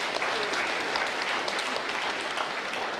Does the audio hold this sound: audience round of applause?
yes